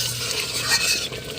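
Garam masala being stirred into a village-style spicy chicken curry, a steady close scraping and stirring with a soft sizzle underneath, continuous and fairly quiet, with no talk.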